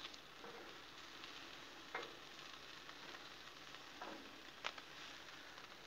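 Hot dog sandwiches sizzle on a Blackstone griddle in a steady, quiet frying hiss, with a few soft clicks and scrapes as they are flipped.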